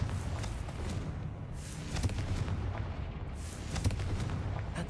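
A few sharp blasts from the Confringo fire spell in Hogwarts Legacy, brief booming cracks spaced unevenly over a low rumbling game background.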